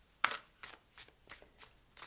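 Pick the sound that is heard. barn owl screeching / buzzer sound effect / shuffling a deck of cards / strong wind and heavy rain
shuffling a deck of cards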